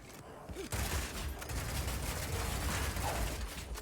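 Rapid Shot crossbow fire in Path of Exile 2: a dense, continuous clatter of quick mechanical shots and impacts, loud and busy from start to finish after a brief quieter opening.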